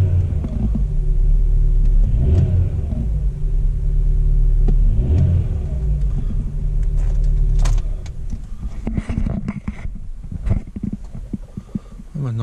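A car's engine starts cold after a hard-start fault and idles with a loud, close, steady rumble, swelling in two rev surges before settling into a rougher, quieter idle with mechanical clatter toward the end.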